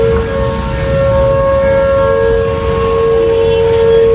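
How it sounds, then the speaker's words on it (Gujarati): A civil defense siren sounds for a mock drill during a blackout in Jamnagar, a loud steady wail holding one tone throughout, with wind and rain noise underneath and no speech. "સાયરન કહેવાય ને મોક ડ્રીલ થવાનું છે"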